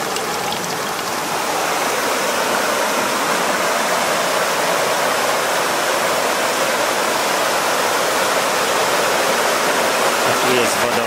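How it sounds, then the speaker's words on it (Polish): A waterfall near Łomnica Zdrój rushes with a constant, dense roar close by, unbroken for the whole stretch, with no voices over it. "A tu jest wodospad, który pięknie budzi nas rano, szum wody i śpiew ptaków."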